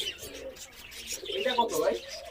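Pigeons at a crowded pigeon market in Khulna's Big Bazar give soft repeated coos and chirps nearby, with murmuring voices of people around them.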